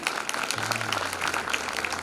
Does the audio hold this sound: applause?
yes